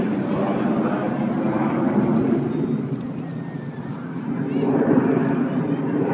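Red Arrows display jets flying in close formation over the Torquay seafront, a steady broad roar of engines sustained throughout and surging slightly louder near the end, wind noise on the microphone.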